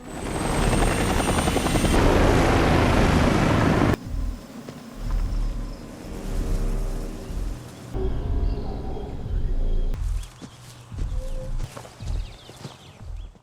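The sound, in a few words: helicopter flying away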